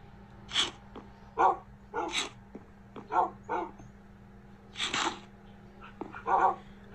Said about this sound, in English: Wait, I'll feed my dogs.